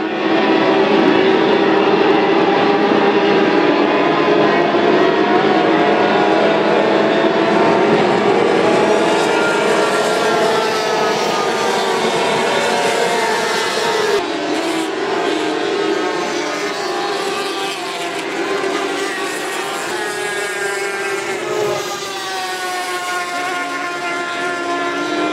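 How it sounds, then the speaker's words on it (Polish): F500 class racing powerboats racing at full revs, around 13,000 rpm, at a water festival in Janikowo, producing a loud, continuous high-pitched engine whine that shifts in pitch as the boats pass close by. "Silnik pracuje na najwyższych obrotach, wykonując ich 13 tysięcy na minutę."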